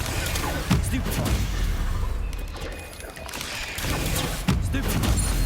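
A Stupefy spell cast in Hogwarts Legacy lands as loud, crackling bursts of magical impact over a dense, busy combat backdrop, with sharp hits near the start and end.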